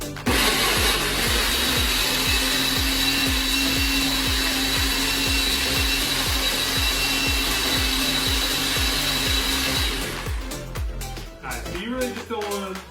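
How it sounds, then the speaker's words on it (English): A blender whirring steadily through a protein powder smoothie, a loud motor drone with a rhythmic low thumping for about ten seconds before it cuts off and a voice speaks briefly. "And we're just going to blend this until it's smooth."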